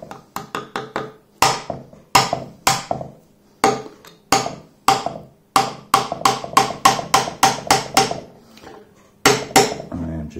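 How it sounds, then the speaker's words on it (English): A hammer gently taps a rusted-in valve on a Yamaha XJ650 motorcycle engine in irregular bursts of sharp, ringing metal knocks, some quick in succession, others spaced apart, fairly close and clear. "although I am getting the hammer out"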